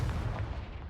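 A deep, booming blast from the Confringo spell in the Hogwarts Legacy video game, a short, loud burst that fills the low end with no talking over it.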